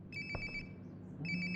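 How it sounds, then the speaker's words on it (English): A mobile phone rings in the video game Life is Strange: Before the Storm, two bursts of a repeating electronic ringtone with a pause between, fairly quiet and muffled as if from a nearby room. "Sounds like my phone is definitely nearby."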